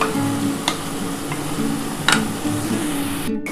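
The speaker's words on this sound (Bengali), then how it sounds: "মশলাটা খুব ভালোভাবে কষানো হয়ে গেছে, দেখো খুব ভালো করে কষিয়ে নিয়েছি" Spice paste for a mutton curry sizzles and fries steadily in a pan, a continuous close hiss with a few sharp crackles and the occasional scrape of stirring.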